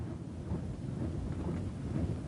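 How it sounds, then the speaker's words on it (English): A thunderstorm at sea rolls on as a steady, low, muffled roar of wind and rain with a faint rumble of thunder beneath, continuous and moderately distant throughout. "We're heading into a bad storm."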